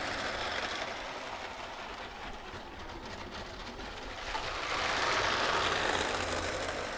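A light LEGO high-speed passenger train runs along its toy track with a soft, continuous rolling whir that swells louder as it passes close toward the end; no voices.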